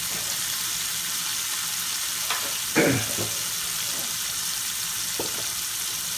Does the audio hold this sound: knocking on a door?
no